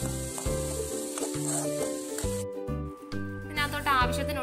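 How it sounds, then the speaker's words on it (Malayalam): Ginger, garlic and onion fry in a pan for bread cutlets, giving a steady close sizzle with occasional stirring, under background music. "ഇഞ്ചിയും വെളുത്തുള്ളിയും കൂടി ഇട്ട് നന്നായിട്ടൊന്ന് മൂപ്പിച്ചെടുക്കുക."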